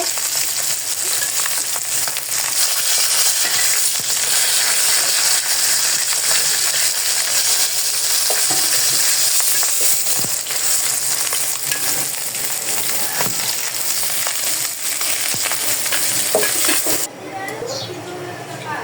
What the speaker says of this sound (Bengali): মাছটা আমার ভাজি হয়ে আসছে, এখন মাছটা আমি উঠিয়ে নিব